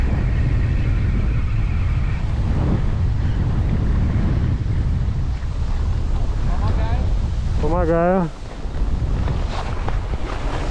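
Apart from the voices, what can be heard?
strong gusty wind on fishing boat, Kamchatka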